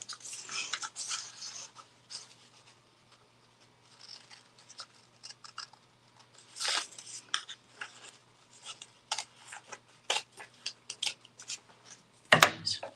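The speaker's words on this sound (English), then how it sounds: "I'm using these big old scissors." Big old scissors cutting fabric for a patchwork craft, with close, intermittent snipping and rustling in short bursts separated by quiet pauses.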